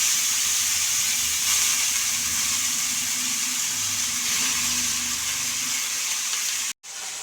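Fenugreek leaves hitting hot tempering oil with asafoetida and turmeric in a kadhai give a loud, steady hiss and sizzle that holds without letup, dropping out only for a brief moment near the end.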